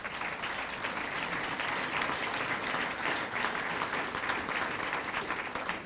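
An audience claps at a speech by the Illinois Senate President, a dense, steady wash of applause that lasts the whole stretch at even loudness, with no voices over it.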